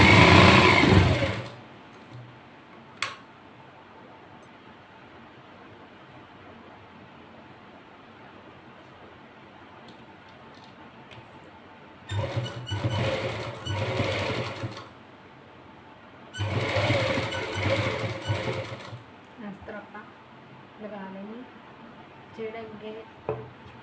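A sewing machine stitches lace onto the side slits of a garment, running in two whirring bursts of a few seconds each after a long quiet stretch, close and fairly loud.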